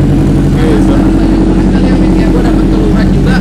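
A Honda Civic FD2 fitted with a turbo engine running close by, a loud steady idle drone with a throbbing low rumble, voices talking over it.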